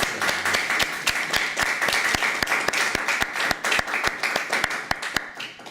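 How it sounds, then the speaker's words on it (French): An audience applauds at the close of a seminar talk at Paris 8, with crisp, evenly spaced claps from a small group sounding fairly close and steady throughout, without any speech. "nous pouvons t'applaudir"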